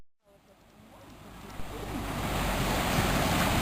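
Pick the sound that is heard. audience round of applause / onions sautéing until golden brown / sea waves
sea waves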